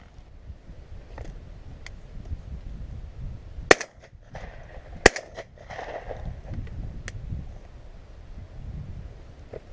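Shotgun shots fired at pigeons over decoys in an open field, two sharp, loud cracks a little over a second apart against outdoor wind noise, no talk.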